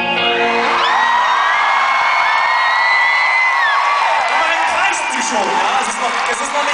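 A concert crowd at a show in Ingolstadt screams and whoops loudly and continuously, high shrieking voices sustained throughout before easing slightly at the end.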